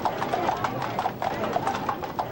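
Bay horses lead a funeral procession, their hooves clip-clopping in a steady, moderately close rhythm with a faint murmur of voices in the background.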